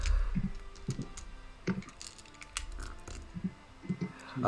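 Typing on a computer keyboard during an online tabletop role-playing session, a run of irregular close clicks and taps spread through the stretch with faint background noise.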